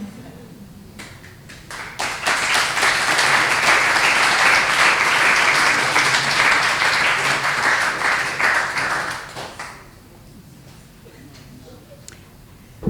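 A crowd at a Juneteenth celebration bursts into loud, sustained applause that swells and holds for several seconds, then fades out, leaving a quieter room.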